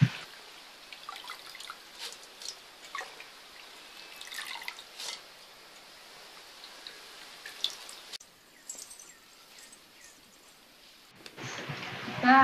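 Water dripping and trickling as leafy greens (kurinji keerai) are washed two or three times in a kitchen, with intermittent small splashes and drips at close range and a louder burst near the end.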